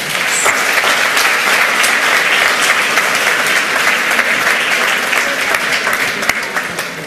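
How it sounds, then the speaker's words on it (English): Loud, dense applause from a conference audience welcoming presenters of a security talk in Berlin, sustained clapping from many people filling the room at an even level throughout. "A warm applause"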